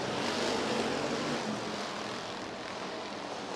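USRA Hobby Stock race cars race at Rapid Speedway under green flag conditions, their engines a loud, continuous roar that fades slightly over a few seconds.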